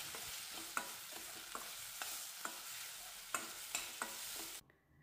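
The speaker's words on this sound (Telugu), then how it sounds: "ఇది కూడా వేసేసుకొని పచ్చివాసన పోయేంత వరకు బాగా ఫ్రై చేసుకోవాలి." Tomatoes and ginger garlic paste fry in a pan, with a soft steady sizzle under repeated sharp scrapes and taps of a spoon stirring, close and quiet, stopping abruptly near the end.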